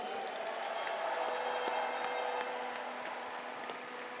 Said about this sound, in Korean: 힘찬 응원과 격려의 박수 부탁드립니다